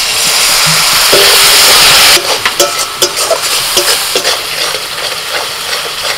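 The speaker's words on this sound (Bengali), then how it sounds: "এবার অল্প একটু জল দিচ্ছি।" Water is poured onto spices of turmeric, salt, coriander, cumin and red chili powder frying in a pan, bursting into a loud, close hiss of steam that cuts off and gives way to softer bubbling and scraping, with no talking.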